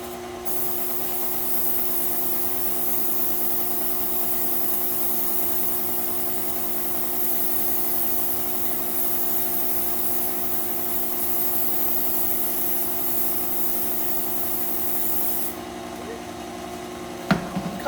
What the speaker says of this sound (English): So I'm just going to spray the pan down.